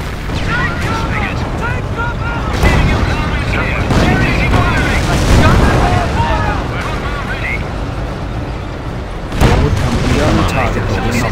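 Enemy German gunfire in a Company of Heroes battle: continuous rumbling artillery and gunshots with heavy booms at intervals, loud and close, under shouted voices.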